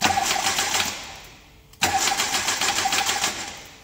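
A Hyundai/Kia car engine starts after a timing belt replacement. It cranks with a rapid whirring, dies down briefly, then catches again with a sudden loud burst into a rough, steady running clatter.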